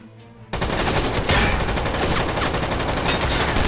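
Rapid automatic gunfire with heavy recoil rips through a shooter video game, starting abruptly after a brief quiet moment and then hammering on loud and continuous to the end.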